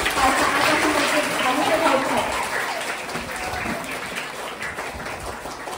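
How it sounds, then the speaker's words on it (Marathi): An audience claps steadily to welcome the headmaster at a computer room inauguration ceremony. The applause is loud and continuous and eases off slightly toward the end, with some voices mixed in. "जोरात टाळ्या होऊन जाऊ दे बरं"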